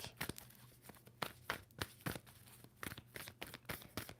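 Tarot cards are shuffled by hand in a quick series of crisp, papery riffles and slaps, each burst sharp and close, repeating irregularly about every half second.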